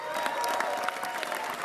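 Supporters of Liberal leader Mark Carney applaud, a dense, steady clapping from a large crowd that fills the short moment, with no speech over it.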